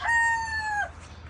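A single rooster crow rings out clearly and close, one sustained call lasting under a second, followed by quiet farmyard background.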